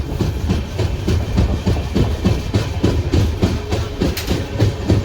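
A local train runs past a small station on the Kolkata to Puri line, heard from inside the carriage as a steady loud rumble with rhythmic wheel clatter.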